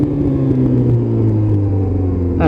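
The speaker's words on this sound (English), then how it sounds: "And as usual, the pops and bangs." A Royal Enfield motorcycle's exhaust gives a steady loud rumbling drone up close, without clearly separate pops or bangs standing out.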